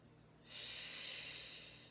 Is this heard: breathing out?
yes